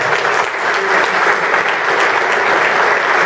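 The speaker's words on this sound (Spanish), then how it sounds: "Nery González Artunduaga, a quien le quiero pedir un fuerte aplauso también" Loud, dense applause from an audience at an award ceremony, a steady wall of clapping that fills the room without pause.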